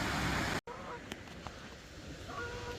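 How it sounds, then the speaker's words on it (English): Geese honking beside the Sandford hydro site: several clear, fairly close honks over a steady rush of water, following a brief cut at the start. "Ah, birdies. Geese."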